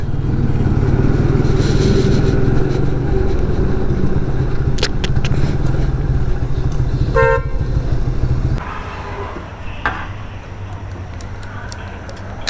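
A motorbike rides along a highway in India, its engine droning loud and steady beneath wind rush, with sharp car horns honking nearby partway through before the roar drops to a lower hum.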